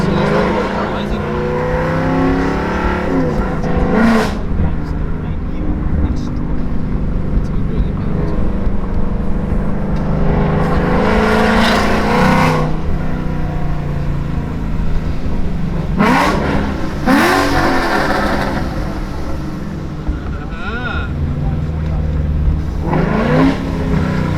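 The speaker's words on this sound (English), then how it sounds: "Traction off, first gear pull." Car pulling hard in first gear with traction control off at a Cars and Coffee meet, loud engine roar with repeated revving bursts over steady rumble, people chatting and shouting nearby.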